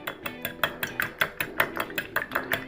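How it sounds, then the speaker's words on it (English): A fork whisks eggs in a bowl for French toast, giving a steady, quick run of about a dozen sharp metallic taps close by, evenly spaced with no talking. "whisking it all up so we get all the egg beat into a nice consistency pretty much"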